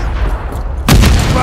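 A grenade exploding in Call of Duty Modern Warfare 3, a sudden loud close blast bursting out after a stretch of low rumbling battle noise, its roar lingering to the end.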